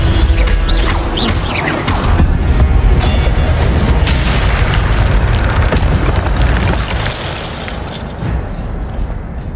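A fire spell cast in the Hogwarts Legacy video game, heard as a loud, dense booming blast with crackling bursts that rolls on through most of the clip and eases slightly near the end.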